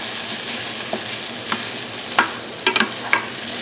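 Ground beef for chili sizzles steadily in a pan while a utensil breaks it up, with a handful of sharp scraping clicks standing out over the constant frying hiss.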